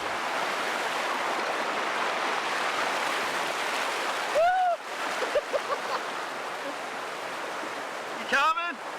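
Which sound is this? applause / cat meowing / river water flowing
river water flowing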